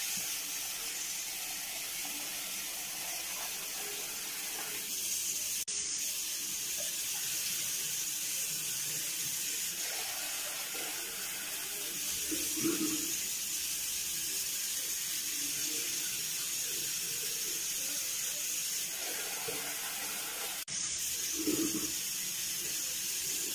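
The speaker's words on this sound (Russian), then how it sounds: "я пока сейчас рис промою" Rice being rinsed under a running kitchen tap, a steady hiss of flowing water with faint bumps and splashes as the grains are stirred, going on for over twenty seconds with no talk.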